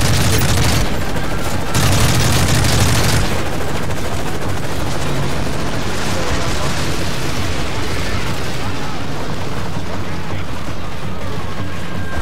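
Sustained machine gun fire in the Call of Duty MW3 video game, a loud, dense clatter of gunshots running throughout with heavier bursts early on, while a voice speaks over the battle.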